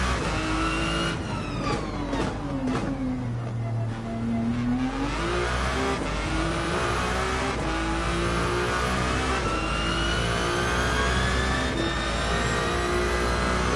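A hypercar engine in the Gran Turismo 7 racing game revs loudly and continuously, its pitch sweeping down and then climbing again as it accelerates.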